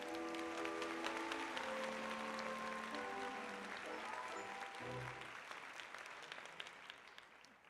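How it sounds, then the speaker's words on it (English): A round of applause for Santa Claus at a holiday storytelling show rolls on steadily, blended with sustained musical tones and a low thump near the end before the clapping tapers off. "Let's give him a rollicking round of applause."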